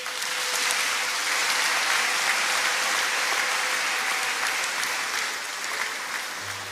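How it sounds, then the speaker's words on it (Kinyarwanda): A church congregation applauds together in sustained, dense clapping that holds steady and then eases slightly near the end, filling the hall. "Nagira ngo munize amashyi tubishimire"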